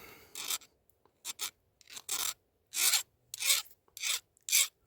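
A file rasps across a burr on hard steel in eight separate short strokes, each a bright scraping pass with brief silent gaps between them, close and clear with no talking.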